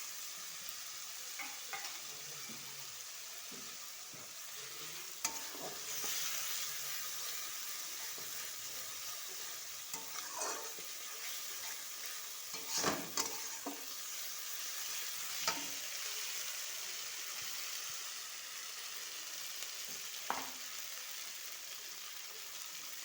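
Garlic paste frying and being stirred in a pan for a curd katla fish curry, a continuous sizzle with occasional scraping stirs and sharper spatters, close and steady with no talk.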